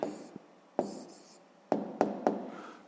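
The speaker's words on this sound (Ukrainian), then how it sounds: "Записуємо відповідь, пишемо відповідь." Handwriting an answer to a sixth-grade math exercise, with a few short scratching strokes and taps of pen on paper, close and quiet, separated by brief pauses.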